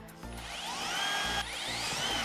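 Holes are drilled into a high-heel roller skate with a power drill: two close, loud bursts of steady whining motor, separated by a brief dip, with no talking.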